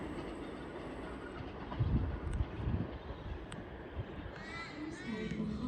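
A Sydney Trains V-set train departs St Marys Station, rumbling past with low clattering and wind noise, then brief high squeals as it moves off; no one speaks.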